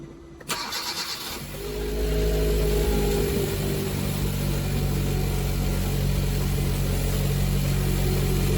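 A car engine with gasoline direct injection and port injectors cranks briefly and catches after a quiet start, then settles into a loud, steady idle that continues to the end.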